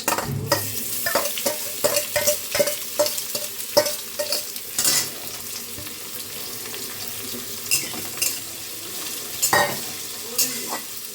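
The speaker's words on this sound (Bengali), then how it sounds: "পেঁয়াজটা এবার ভাজা ভাজা করছি।" Oil sizzles steadily in a pan while a spatula clanks and scrapes repeatedly, with irregular stirring knocks.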